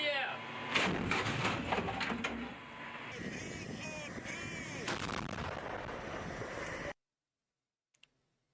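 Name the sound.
Russian MLRS rocket launcher firing in Ukraine war footage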